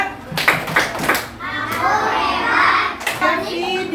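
Children clap in a classroom, several quick rhythmic hand claps at the start, then voices chanting together along with more claps near the end.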